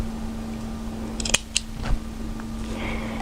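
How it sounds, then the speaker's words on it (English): Scissors snip elastic for a kimono kaftan sewing project: a couple of sharp close clicks followed by a softer cut, over a steady low hum. "take your elastic and we need to cut one length 15 centimetres"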